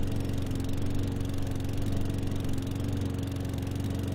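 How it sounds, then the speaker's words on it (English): A lawn mower mod engine from the Farming Simulator 17 video game runs as a steady, droning putter at an even level throughout, with no talking. "What kind of mower is that? A lawnmower."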